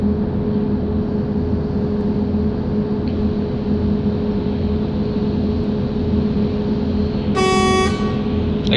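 In the Bus Simulator Ultimate video game, a bus rolls along with a steady engine drone, and then a single short, loud horn honk sounds near the end.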